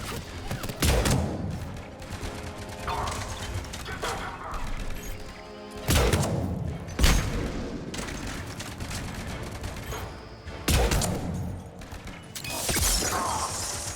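Mantis sniper rifle shots in Mass Effect 3: a handful of loud, sharp cracks spaced several seconds apart over a steady bed of game ambience.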